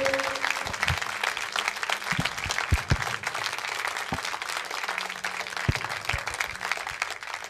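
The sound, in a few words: audience applause for Heru Purwanto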